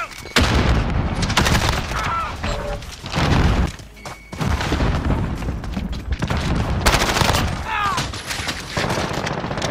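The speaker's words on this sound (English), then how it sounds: "Grenade out!" Gunfire and a grenade blast in a Modern Warfare team deathmatch, with rapid bursts of shots, booming thuds and dense battle noise, while players talk over the action.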